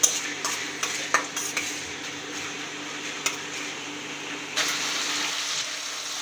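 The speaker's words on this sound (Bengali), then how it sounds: "পেঁয়াজটা ভেজে নিয়ে তারপরে মশলা দিব।" Onions frying in a pan for a home-style egg, bori and pea curry, a soft steady sizzle under a quiet fan hum, with occasional spoon scrapes and clinks against the pan.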